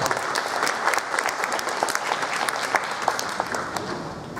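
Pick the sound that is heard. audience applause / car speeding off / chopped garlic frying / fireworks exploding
audience applause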